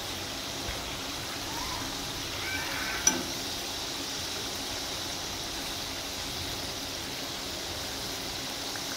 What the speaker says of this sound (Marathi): आता सर्व पलटी करून चांगला तळून घ्यायचा।